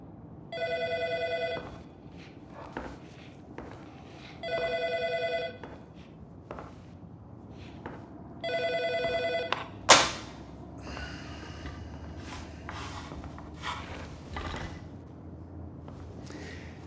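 A telephone rings in a quiet indoor room with three separate bursts of electronic trilling about four seconds apart. A sharp knock and some rustling and handling noises follow.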